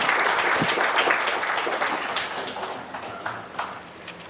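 Audience applause for a speaker at a conference, a dense burst of clapping that slowly thins out toward scattered claps at the end.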